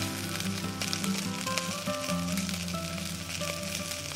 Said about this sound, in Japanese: そして雨はまだ降ってますね。